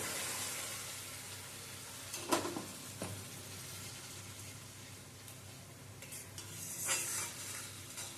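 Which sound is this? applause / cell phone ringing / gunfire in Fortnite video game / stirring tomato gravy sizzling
stirring tomato gravy sizzling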